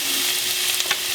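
Peppers fry in a pan with a continuous bright sizzle and a few quick stirring scrapes toward the end, heard alone at close range.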